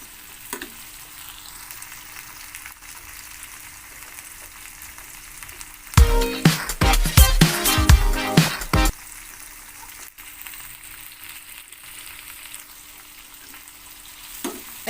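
Tomatoes sautéing in a hot pan; a quiet background sizzle broken by about three seconds of loud, busy stirring and clattering in the middle.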